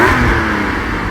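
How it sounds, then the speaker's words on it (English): A Porsche 718 Cayman GT4 with sports exhaust gives a short engine rev blip, a loud close mid-pitched exhaust note that holds briefly and then settles. "So if we can just have one more blip in the 718"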